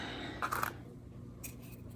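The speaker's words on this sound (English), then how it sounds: "Now it's time to shape them, cut them, file them down." Scissors give a couple of quick, crisp snips as gel nails are cut to a square shape. The sound is soft and close, with quiet pauses between the cuts.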